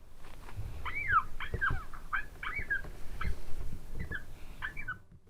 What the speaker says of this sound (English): I switched sounds to a baby coyote pup in distress.